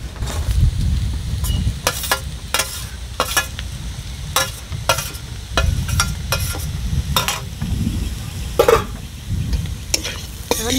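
Eggs poured over spiced fried potatoes in a pan, sizzling steadily up close while a spatula stirs with repeated sharp scraping strokes against the metal.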